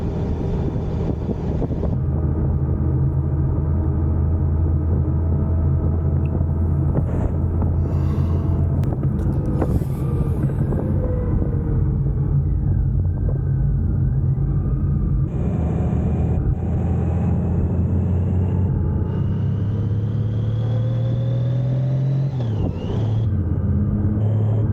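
Honda Goldwing 1800 motorcycle ridden along a trail, its engine a steady loud rumble under heavy wind buffeting on the microphone, with the pitch rising and falling through gear shifts.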